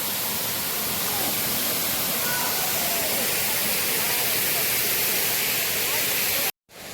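Lai Kyndon waterfall roaring steadily up close, a dense, unbroken rush of falling water that cuts out abruptly near the end.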